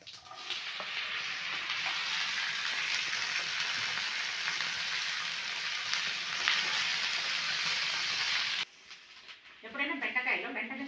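Lentils sizzle steadily in hot oil in a pan before chopped okra goes in, a loud, close, continuous frying hiss that cuts off abruptly near the end, with a voice talking over it.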